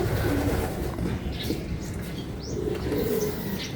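Pigeons coo softly at a racing pigeon loft, with low throaty calls repeating over a rumbling background and a few faint chirps mixed in.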